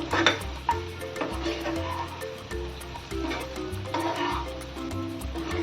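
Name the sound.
stirring stuffed masala okra (bhendi) in a pan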